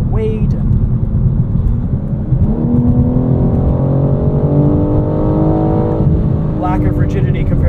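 A 2022 BMW M4 Competition xDrive Convertible driving, engine drone heard from inside the cabin with revs climbing and a gear change near the end, mixed with heavy road and wind rumble.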